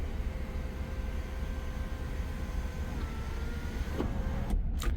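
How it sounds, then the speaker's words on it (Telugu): The automatic sunroof of a 2016 BMW 520d closes with a steady electric motor whine that runs evenly throughout and cuts off just before the end, heard close inside the cabin. "సన్ రూఫ్ క్లోజ్ చూడొచ్చండి"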